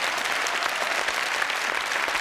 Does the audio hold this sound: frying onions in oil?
no